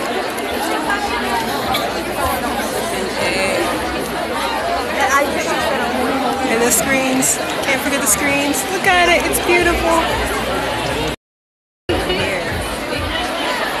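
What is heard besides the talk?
crowd chatter at a GOT7 concert venue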